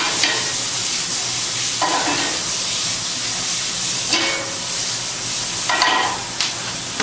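A side dish sautés loudly in a hot pan, with a dense sizzle that swells several times as food is tossed or stirred. It is close-up and has no speech.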